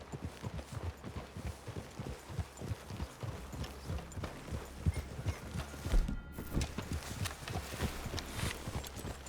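Horse hooves clop along at an even walking pace in the video game Red Dead Redemption 2, steady and moderately close, with a low background hum and no talking.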